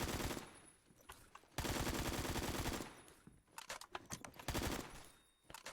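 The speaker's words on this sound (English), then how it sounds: "the AKM, it's pretty much one of the hardest hitting assault rifles" Loud bursts of AKM assault rifle fire in the video game Phantom Forces, with long automatic strings and shorter rapid volleys separated by brief pauses, no talking.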